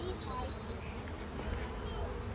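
Honey bees drone close by at a teaching apiary, a dense steady buzz filling the space, with one brief higher piping note standing out near the start.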